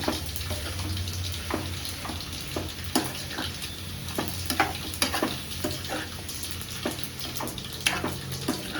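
Pumpkin curry with turmeric being stirred in a pan on a medium-high gas flame, a soft sizzle under repeated scraping and clinking strokes of a spoon, close and fairly steady.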